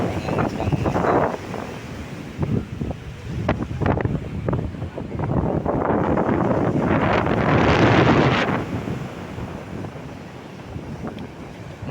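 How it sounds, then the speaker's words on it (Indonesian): Strong wind roars into the microphone at a river estuary as waves break, a rough, surging wash that swells loudest around the middle and then eases off. "Ombaknya pecah di muara,"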